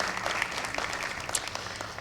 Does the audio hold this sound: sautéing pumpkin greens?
no